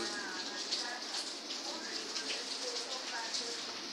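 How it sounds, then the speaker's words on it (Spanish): Steady, dense hiss of rain falling continuously, a broad wash of noise with faint patters and no pauses. "se escuchará la lluvia y los relámpagos"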